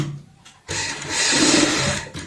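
A sewing machine stitches a handmade purse bag, running in a loud, steady whir for most of the stretch after a brief quieter start, with no voices over it.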